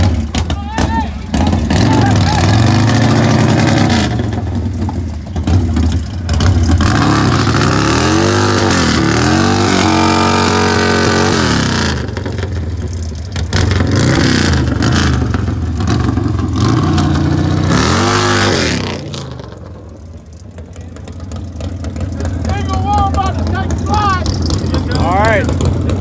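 Big V-twin bagger motorcycles launch off the line in a money grudge drag race, loud engines revving and roaring with rising and falling pitch sweeps, while a voice talks over much of the noise.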